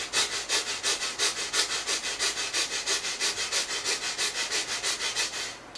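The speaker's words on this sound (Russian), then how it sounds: "То есть стрельниковское дыхание это так." A person does forceful Strelnikova-style breathing exercises, giving about two dozen sharp, even, rhythmic sniffing breaths in quick succession, close and clear with no talk.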